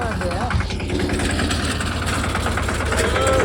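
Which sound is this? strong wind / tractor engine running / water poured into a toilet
tractor engine running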